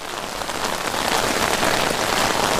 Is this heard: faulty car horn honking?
no